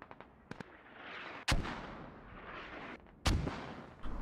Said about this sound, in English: Bartark Warrior gonna try and move through the mortars